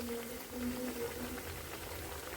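Leftover roti pieces fry in a pan with a soft, continuous bubbling sizzle, quiet and steady, with no talking.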